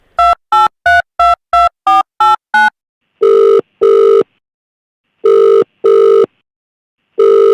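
A phone call to a friend begins with a quick run of eight dialing tones. Long, loud ringback tones follow in pairs with pauses between them. No voices are heard.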